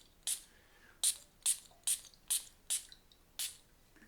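Seven short, sharp hisses from a Spiced Amber aftershave spray bottle, each burst quick and crisp, spaced irregularly over a few seconds with quiet between them, close to the listener.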